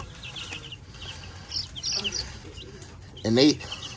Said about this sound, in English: Got our little chickies, our little Buff Minorcas.